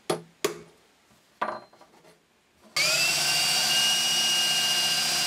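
Power drill boring a screw clearance hole through a wooden end cap for a reclaimed-wood serving tray handle. A few sharp knocks and handling clatter come first, then the drill starts and whines steadily and loudly to the end.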